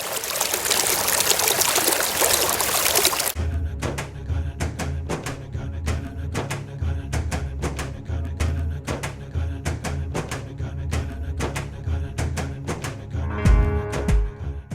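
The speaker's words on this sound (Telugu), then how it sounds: "బ్రిడ్జ్ దగ్గర నుంచి వాటర్ ఫ్లో అవుతుంది." Water flowing beneath a small bridge on a village road near Ammapalem, a steady close trickling stream with a rhythmic low mechanical pulsing mixed in, after a loud burst of broadband noise in the opening seconds.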